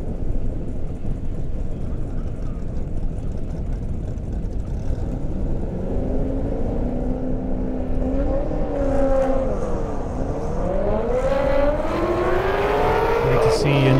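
Corvette Z06 race cars, rated around 600 and 620 horsepower, roar at a drag race on an Indiana airstrip, with a loud sustained engine drone whose pitch sweeps up as they accelerate, under an announcer's talk.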